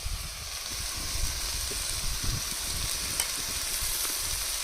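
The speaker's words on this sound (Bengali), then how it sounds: "মশলাগুলো কষিয়ে নেবো বন্ধুরা" Cumin paste, ginger-garlic paste and ground coriander frying in oil for a Bengali doi katla fish curry, giving a steady close crackling sizzle that runs without a break, with no voices.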